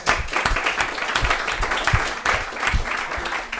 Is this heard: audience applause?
yes